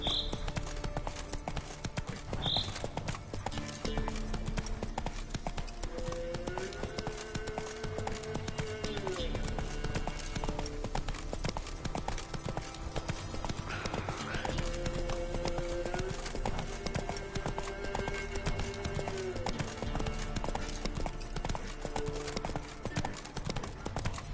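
Galloping hooves of the horse Roach in The Witcher 3 video game, a continuous rapid clip-clop over game music and ambience, with occasional whinnies and a voice heard briefly.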